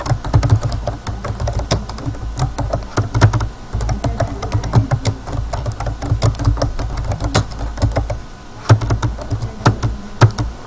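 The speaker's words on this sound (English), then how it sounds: "Having a little trouble typing there." Rapid, irregular keyboard typing with clustered key taps and brief pauses, close and steady over a low background hum.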